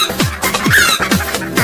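A hen clucks in quick repeated bursts, four short close-up clucks in a steady rhythm.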